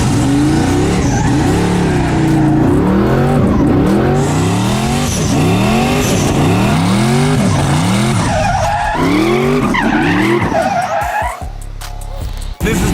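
A car spins donuts beside a 1200-horsepower Corvette Z06 and an old Dodge, engine revving in repeated rising sweeps while tires squeal and skid loudly and continuously, close by.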